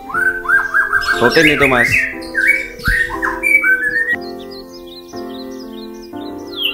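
A murai batu (white-rumped shama) songbird sings loud, varied whistled phrases near the microphone, rising and falling with quick chirps and trills, while someone speaks briefly in the background.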